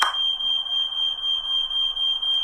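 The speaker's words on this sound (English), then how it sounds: "Her smoke alarm went off." A smoke alarm sounds a continuous, piercing high-pitched tone, loud and steady with a slight pulsing, and no talking.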